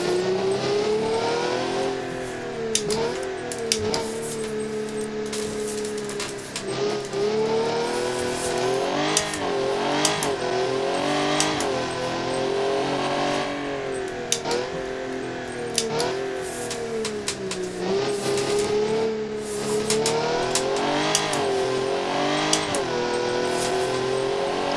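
A Crown Model 10 sports car in the video game BeamNG accelerates around a track, its engine revving continuously and loudly, with rising and falling pitch through gear changes and corners, and no talk over it.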